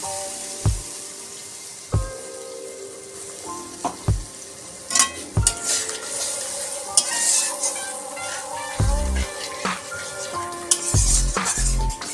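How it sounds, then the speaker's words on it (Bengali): Spice-bowl rinse water goes into frying masala in a wok for pomfret with mustard and poppy seed, bringing bursts of sizzling, knocks of a spoon against the pan and a bowl, and sharp metallic clinks, close and loud. "এবার আমি মশলার যে বাটি ধোয়া জলটা ছিল সেটা আমি কড়াইয়ের মধ্যে দিয়ে দেব।"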